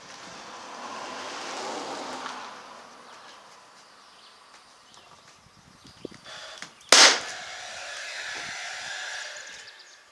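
A 16 gauge nailer drives a 1.25-inch nail into trim bead on a storage banquette, one sharp, loud pneumatic snap standing out against quiet room noise.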